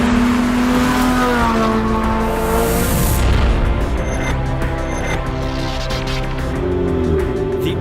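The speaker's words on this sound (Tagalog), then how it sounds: "Ang ganda ng tunog, suave yung tunog ng makina." Aurelio supercar, a Filipino-built sports car, with its engine revving loudly and close by, rising and falling harmonics sustained throughout with a brief surge midway.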